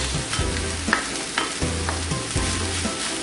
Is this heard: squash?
yes